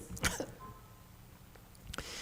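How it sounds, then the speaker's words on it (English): A single cough or throat-clearing from a man giving a Buddhist sutra lecture, two short bursts within a couple of seconds at low, close level against a quiet room. "I don't know why I'm coughing now."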